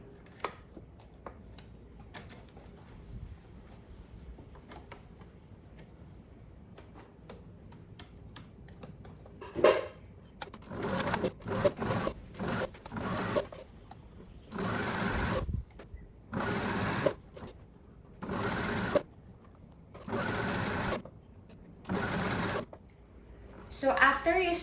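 A sewing machine stitches the side panels of a fabric laundry basket in short repeated bursts, each a second or so, loud and close. Several stops and starts follow a quieter opening with light handling noise.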